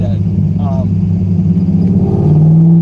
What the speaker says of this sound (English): The car's warmed up, it sounds so healthy, and it's running so well.